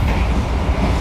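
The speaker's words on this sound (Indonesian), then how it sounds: "kereta mantep nih bang" A train passes close by in a loud, steady rumble of rolling wheels and wagons that fills the whole brief moment without a break.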